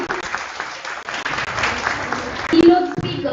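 An audience at an academic conference on technology and education applauds dignitaries on stage, with moderate clapping that swells and dips while a voice speaks over it.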